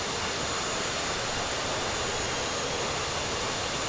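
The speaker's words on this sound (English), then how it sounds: "I just dump the throttle all the way down and then back up again" Steady broadband roar of an F-16C jet engine in DCS World, a loud, even whoosh filling the whole clip with little change in level, no distinct spool-down audible.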